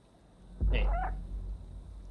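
A single close, clear cat meow sounds in the video game Stray, rising then trailing off, alone over a low background hum.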